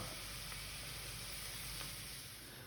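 Fried onion poured onto pork cracklings gives a steady, dense sizzle with hissing frying noise throughout, close and even in level, with no talking.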